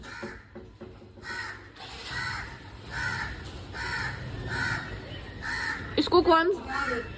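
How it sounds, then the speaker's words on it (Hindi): A crow caws repeatedly nearby in harsh, evenly spaced calls, while people talk over it and a sharper squawk breaks in toward the end. "कौआ तुमने फिर बुला लिया?"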